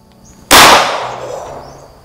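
A single loud, sharp report from an Umarex Colt M1911 front-venting blank-firing pistol, with a sudden crack followed by a lingering reverberant decay over low background noise.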